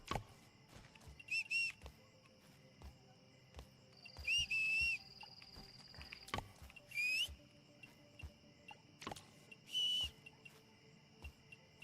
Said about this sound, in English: Yeah, whistle 17 more times,